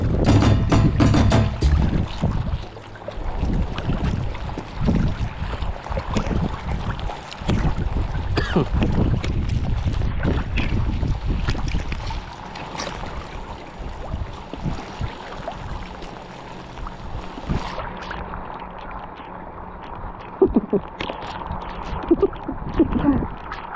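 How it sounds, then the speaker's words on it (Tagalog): Heavy rain and gusting wind batter a paddleboat out on the water, loud and rushing with strong wind buffeting of the microphone, easing somewhat after the first half. "lumalakas yung ulan"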